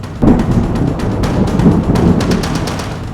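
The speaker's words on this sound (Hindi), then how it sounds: "बादल इतना शोर क्यों मचा रहे हैं?" Deep thunder rolls and rumbles during a heavy September monsoon storm in India, loud and sustained with a soft rain hiss beneath and no voices.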